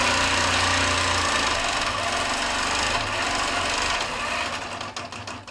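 A quilting sewing machine with the stitch-length dial set to 12 runs in one steady, fairly loud stretch, its motor hum and rapid even stitching continuing throughout and easing off slightly at the end.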